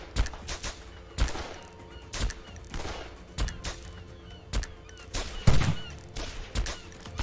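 Gunfire in the VR shooter Silicon Rising on Oculus Rift S cracks out as sharp, separate shots in an uneven rhythm, fairly close and punchy over a quiet background.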